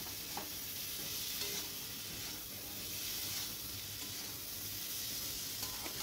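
A vegetable curry sautéed and stirred in a pan, a soft, steady hiss with faint stirring scrapes, fairly quiet throughout.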